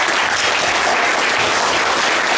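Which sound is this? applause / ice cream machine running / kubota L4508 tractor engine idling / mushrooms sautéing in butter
applause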